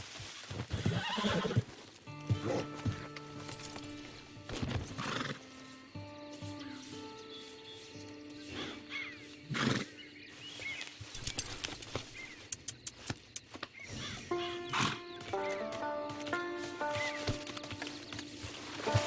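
A horse whinnies several times over steady clip-clopping hooves, loud and close, with a synthetic, game-like quality, from Red Dead Redemption 2 Online.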